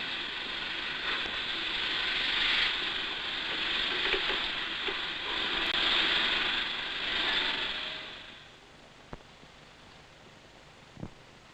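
Metallic clanking and grinding as six milk wagons are coupled to a stopping passenger train, steady and fairly loud for several seconds, then quieter with a couple of sharp knocks.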